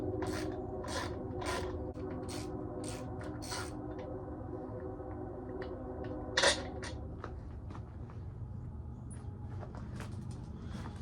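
A ratchet clicks in repeated bursts while loosening a bolt on an outboard motor, close and crisp over a steady background hum, with one louder knock near the middle.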